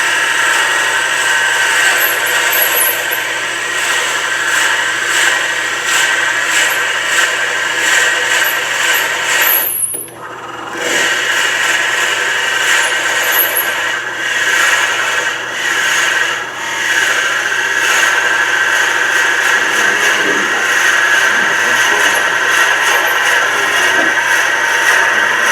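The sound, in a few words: drill bit boring a hole in wood for a pepper mill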